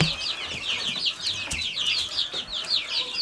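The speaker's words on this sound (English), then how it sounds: "The sweetest chickens." Tame backyard chickens with a rooster among the flock cluck and chatter continuously at moderate distance, soft repeated calls overlapping outdoors with light ambient noise and no talking.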